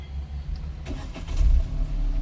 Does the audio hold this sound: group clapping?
no